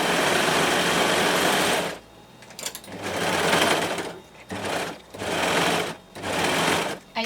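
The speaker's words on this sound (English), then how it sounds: "Let's go by the sewing machine." A sewing machine stitches in loud, close bursts: one long continuous run, then several shorter runs separated by brief pauses, its rapid mechanical whir filling each burst.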